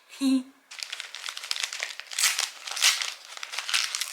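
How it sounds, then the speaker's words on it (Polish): Paper crinkles and rustles steadily as the eleventh advent calendar present is unwrapped at close range, following a brief voice at the start. "mam już jedenasty prezencik, także otwieramy"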